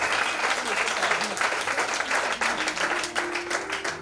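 A congregation at a church convention claps loudly and continuously, a dense wash of applause filling the hall with some crowd voices mixed in.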